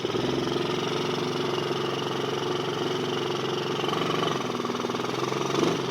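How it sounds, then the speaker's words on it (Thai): A small ATV without reverse gear runs its engine steadily near by, a continuous mid-pitched drone with a slight throttle swell toward the end, no voices. "คันเร่งตัวนี้ก็เบิ้ลเลย"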